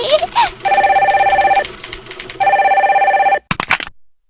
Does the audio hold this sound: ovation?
no